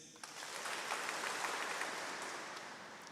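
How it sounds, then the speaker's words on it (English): An audience claps at a university graduation ceremony, a dense, steady burst of applause that swells in and holds for about three seconds without voices. "When I give the name of each city, you need to clap for no more than 3 seconds"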